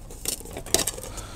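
Fire Maple FMC-F4 camping cookware set, metal pots and a ribbed-bottom frying pan without nonstick coating, handled with light clinks and jingles, close and quiet, no talk.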